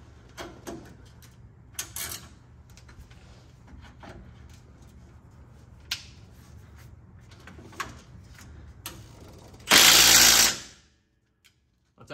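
Mechanic's tools at the rear shock of a 1988 Ford Ranger: scattered close clicks and knocks, then a loud, dense burst of rapid ratcheting as the bottom shock bolt is worked, followed by quiet.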